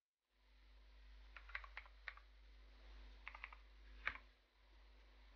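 Password typed on a computer keyboard, two short bursts of quiet key clicks with a pause between, close and faint against a low hum.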